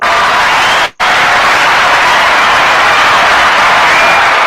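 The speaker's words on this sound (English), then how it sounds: "you're gonna hand clap for that" Sustained, loud applause from a crowd, dense and steady, with one brief dropout near the start before it resumes at full strength.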